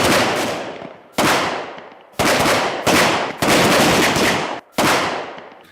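Bursts of automatic fire from a Micro Uzi short-barrel submachine gun at an Indian Army special forces training range, six loud rapid volleys separated by brief gaps, close and harsh.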